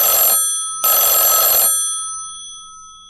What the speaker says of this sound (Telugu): కాసేపట్లోనే ల్యాండ్లైన్ ఫోన్ రింగ్ అవుతోంది.